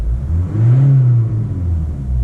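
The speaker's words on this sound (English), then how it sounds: "It's just the engine trying to suck all the air from the air filter." Diesel Toyota Yaris engine fitted with a K&N air filter, drawing air in a deep rumbling rev that swells and then settles back to a steady low hum, loud and close.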